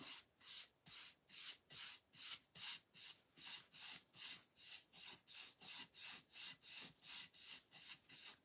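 A tool scrapes dry-brushed white paint off a craft piece in steady back-and-forth strokes, about two each second, a close, faint, rhythmic rasping with no voices.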